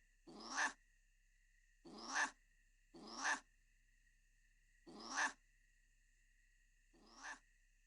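A cat in the video game Divine Divinity makes an odd, unnatural synthetic call, repeated five times at uneven intervals of one to two seconds, each a short rising burst with silence between.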